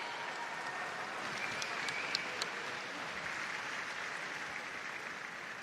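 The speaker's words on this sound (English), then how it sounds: "Congratulations everyone, round of applause for our medalists." Faint, distant applause fills an indoor swimming arena at a national championships as medalists are honoured, a steady wash of clapping with a few sharper claps standing out near the middle.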